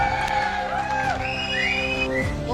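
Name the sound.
audience applause and cheering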